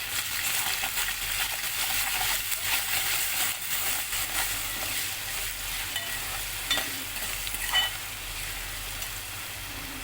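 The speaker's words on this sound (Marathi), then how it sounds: "हे पहा, हे छान भाजून घेऊ." Ingredients for Mysore pulao roast in a hot pan with a constant bright sizzle and occasional stirring scrapes and taps, close up.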